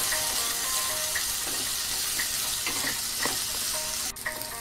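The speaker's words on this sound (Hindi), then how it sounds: "अब मैं इसमें प्याज ऐड करूंगी" Chopped onions sizzle in hot oil with browned cumin as they are stirred, a steady frying hiss broken by a few scraping stirs and a clatter near the end, with no talking.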